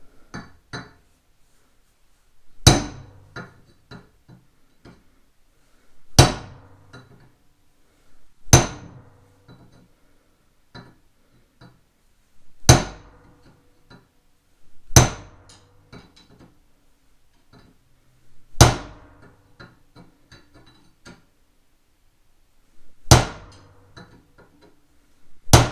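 A hammer strikes the tip of a Doyle screwdriver from Harbor Freight, giving eight sharp metallic clanks spaced a few seconds apart, each ringing briefly before fading, with small clinks and handling noise between blows.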